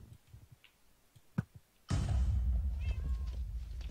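Cats meowing in the Minecraft video game, first a few sparse clicks and short sounds, then a sudden loud, dense burst of meows and game noise that stays close and continuous to the end.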